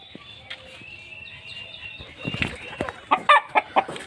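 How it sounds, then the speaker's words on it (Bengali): A newly acquired American Brahma hen placed in a new coop, giving several sharp clucks in quick succession near the end, with wing rustling and faint background noise before. "নতুন খোপে নতুন মুরগি"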